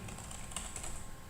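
Computer keyboard typing at close range, a quick run of light key clicks with a couple of slightly louder taps, quiet and without speech.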